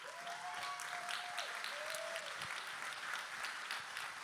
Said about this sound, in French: On peut applaudir Sandrine.